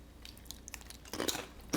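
A cheesy cracker square is bitten and chewed, a few quiet crisp crunches that get louder in two bursts near the end, heard close and alone.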